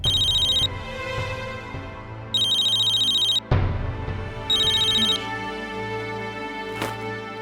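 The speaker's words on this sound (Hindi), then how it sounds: "फोन बज रहा है" Mobile phone ringing indoors with a loud electronic ringtone in repeated bursts, separated by gaps filled with low background music and a sudden thud.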